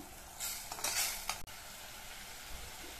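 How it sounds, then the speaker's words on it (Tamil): Masala spice mix fries in oil for a mutton gravy, with stirring scrapes and a soft sizzle that rises in the first second and a half, one sharp knock, then a quieter steady sizzle alone. "நல்லா எண்ணெயிலேயே நல்லா வதங்கிட்டு இருக்கட்டும்"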